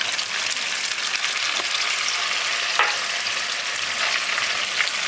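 Dried pepper hits hot oil in a frying pan with clam dish ingredients, giving a steady, dense sizzle with a few faint clicks of stirring.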